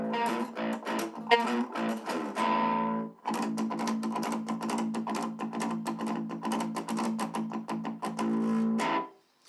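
Electric guitar on the bridge pickup, tuned to drop A at low gain, playing fast chugging and picked riffs with brief pauses, close and steady, then ringing to a stop.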